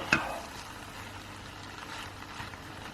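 Chicken rice in a pot is given a mix, opening with a sharp clink of a utensil against the pot, then a soft steady sizzle and faint scraping, close and fairly quiet.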